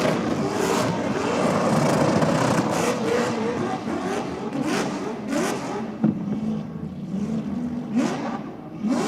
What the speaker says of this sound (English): Blown up tyres, all the RPM, plenty of smoke.